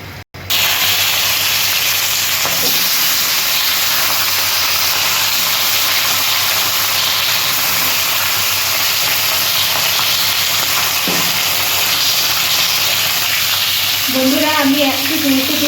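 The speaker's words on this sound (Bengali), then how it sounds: "মাছটা আমি একটু ভেজে নেব।" Fish coated with turmeric fries in hot oil for a mango fish tok, a loud steady close sizzle and hiss running throughout, with a couple of faint knocks and a brief clatter near the end.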